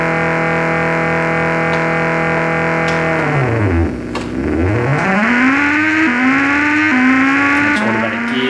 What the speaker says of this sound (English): Start your engine.